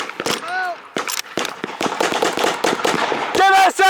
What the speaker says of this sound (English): Give us some covering fire!